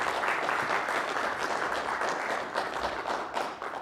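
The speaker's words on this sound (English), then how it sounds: "So give them one more round of applause." Steady applause from an audience at a university speech and debate event, a dense, even wash of many hands clapping continuously for several seconds with no voices over it.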